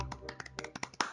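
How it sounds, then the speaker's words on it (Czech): A handful of light, quick hand claps tap out in an uneven rhythm, fairly quiet and close, during a Star Stable Online horse game session. "Potlesk."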